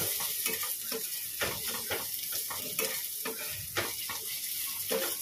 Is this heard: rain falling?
no